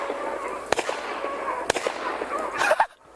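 Two sharp gunshots crack out during a rabbit hunt in freezing weather, spaced about a second apart, with rustling and faint movement between them.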